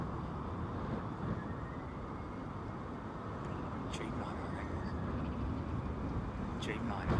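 Jet engines of a Boeing 787-10 Dreamliner landing at Heathrow airport during Storm Isha. A broad, steady low roar sounds from a distance and is mixed with wind noise, with people talking over it.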